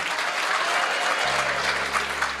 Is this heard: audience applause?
yes